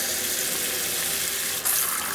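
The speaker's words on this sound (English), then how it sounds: "I'm going to wash it with the cold water" Cold tap water runs steadily into a sink while a whole fresh chicken, about seven pounds, is washed, a constant close hiss with a brief splash change near the end and no talking.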